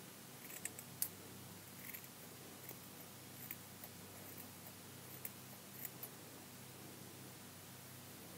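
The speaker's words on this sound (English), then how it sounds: "go ahead and give it a trim so that all the yarn pieces are of the same length" Scissors trimming yarn tassel ends, faint scattered snips over a quiet hissy background, several light clicks spread irregularly with no talking.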